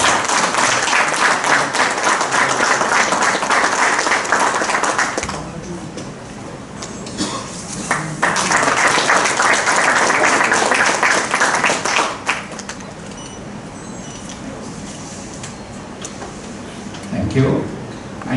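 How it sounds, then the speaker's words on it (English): Audience at a fire and security association event in India gives a round of applause: dense, loud clapping in two long bursts separated by a quieter lull, with scattered talk and noises near the end. "A round of applause."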